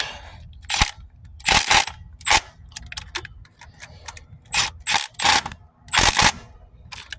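Sharp clicks from a torque wrench tightening the clutch slave cylinder on an 8th-generation Honda Civic Si, coming in irregular bursts of loud, close snaps with quiet gaps between them and no talking.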